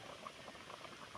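A pot of mackerel fish curry boils and froths on the stove, a faint, close bubbling patter of popping bubbles running continuously for about a second with no voices.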